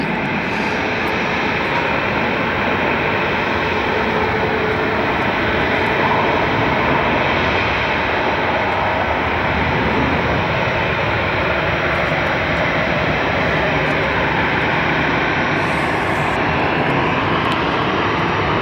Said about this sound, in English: Landing alongside this MAX 8 is an American A321-200 from Los Angeles.